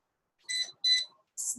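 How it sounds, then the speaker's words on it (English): Three short electronic beeps sound close and clear. The first two come in quick succession, and the third follows after a brief pause. "Stop beeping. Everything's beeping now."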